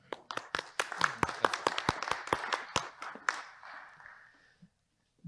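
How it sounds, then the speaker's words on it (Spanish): Audience in a packed auditorium at a forum gives a round of clapping, distinct individual claps building briefly and fading out over about four seconds. "Le brindamos un fuerte aplauso."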